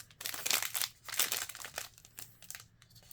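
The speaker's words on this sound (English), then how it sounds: "Might be best cutting these with scissors." A chocolate frog's foil wrapper crinkling and rustling in close, bright bursts as it is handled and cut with scissors, with no talking.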